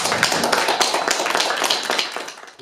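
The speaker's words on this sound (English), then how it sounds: "Give yourself a round of applause." A studio audience applauds steadily and fairly close, dense overlapping claps filling the whole stretch before tapering slightly at the end.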